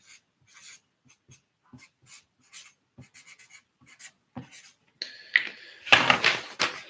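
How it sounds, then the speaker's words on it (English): A pen writes on exam paper, giving short separate scratches and taps at first, then longer, louder rubbing strokes near the end, close up with no talking. "Just going to write them down so we can see them."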